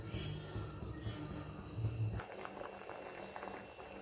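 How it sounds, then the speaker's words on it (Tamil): A pot of lentils bubbles and simmers steadily on a stove, a soft continuous burble with a brief louder stretch early on, close by with no talking. "கொதித்து பருப்பு வெந்து வரும்."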